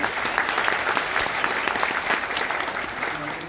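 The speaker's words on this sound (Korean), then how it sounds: "박수 환영해 주십시오" Audience at the Jeju Forum for Peace and Prosperity special session applauds to welcome a panelist, the Hong Kong government's investment promotion head in Korea; dense, steady clapping from a crowd fills the room without a break.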